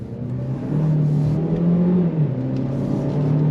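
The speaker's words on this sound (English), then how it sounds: "we're behind the wheel of this 2026 GMC Terrain Denali. Are you ready? On throttle." A 2026 GMC Terrain Denali compact SUV accelerating on throttle, heard from inside with a steady engine drone whose pitch rises, dips briefly and climbs again, loud and continuous with no talking.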